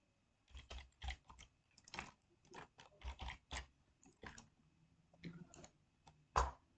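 Typing on a computer keyboard, a close, quiet series of irregular clicks and key taps in short bursts, finished by one sharper keystroke.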